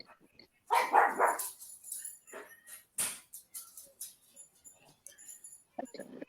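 A little pug puppy barks in the background of a room, several short yips and barks scattered irregularly, with moderate loudness and some quieter sounds between them.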